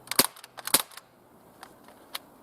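Umarex H&K MP5K CO2 6mm airsoft gun dry-firing with no magazine fitted: two sharp, loud snapping shots close by, followed by a few fainter clicks, with no voices.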